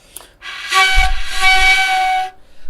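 A single breathy, airy note on a Chinese xiao flute wavers and wobbles in pitch for about two seconds before cutting off, with breath noise around it.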